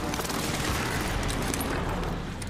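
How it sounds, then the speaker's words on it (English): Airstrike explosions rumble in a Call of Duty match, a dense continuous roar of blasts and gunfire with no clear gaps, loud and close throughout. "Just put an airstrike on him."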